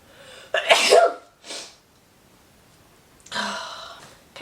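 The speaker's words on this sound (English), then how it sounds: "oh, I'm gonna sneeze." A single close sneeze bursts out loud, followed by a short breathy gasp or sniff and then another sharp exhale a couple of seconds later, with quiet room tone in between.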